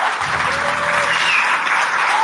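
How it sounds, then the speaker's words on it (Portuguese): Applause from an audience at an international congress, a steady dense clapping that fills the room throughout, close and loud, with no talking over it. "Mais uma salva de palmas para a nossa querida Ana Sevilha."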